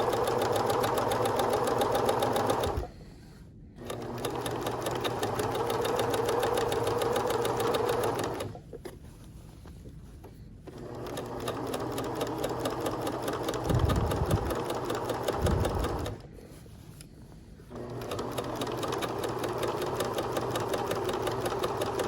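Sewing machine stitching a skirt waistband closed, a loud close mechanical whir running in long bursts with three brief pauses between them.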